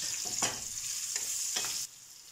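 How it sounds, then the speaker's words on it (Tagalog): Onion, ginger and garlic sizzle steadily in a hot pan, a bright continuous frying hiss broken by a few scraping stirs, close up, ending abruptly into quieter sizzling. "dito na rin natin i-fry yung ating mga vegetables"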